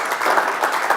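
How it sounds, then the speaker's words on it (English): A brief burst of audience applause for a presenter at a business forum, dense and even clapping from a room full of people, loud and close. "I think we should just give Aki a quick round of applause"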